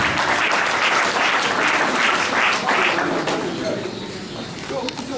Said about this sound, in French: Mesdames et messieurs, applaudissements pour le manager.